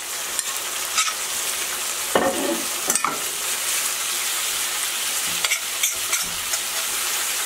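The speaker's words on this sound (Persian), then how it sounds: "فقط یه تفت کوچیک میدیم کافیه، نیاز نیستش که زیاد تفتش بدیم." Chopped parsley and garlic sautéing in a pan, a steady soft sizzle with a few scrapes and stirring knocks, fairly close, no talking.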